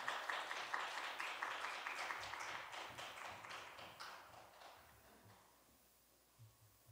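A church congregation at a Wednesday prayer meeting claps to welcome a missionary, a dense, steady round of applause that fades out over several seconds.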